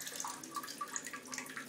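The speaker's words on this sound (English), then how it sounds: "Here's the bidet." A Japanese toilet's bidet nozzle sprays water, a thin hissing jet with scattered splashes and trickles, fairly faint and close, running steadily throughout.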